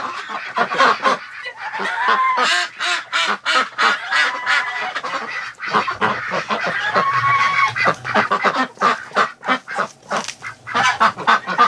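Geese honk loudly and repeatedly among wintering ducks, including Muscovies, at a lake, making a dense, overlapping chorus of close, harsh calls with bursts of quacking that continue throughout.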